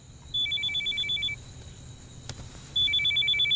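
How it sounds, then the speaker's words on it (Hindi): A telephone rings in a Bollywood action movie scene, sounding in two bursts of rapid electronic trilling separated by a pause, clear and fairly close over a low background hum. "सारा का फोन है।"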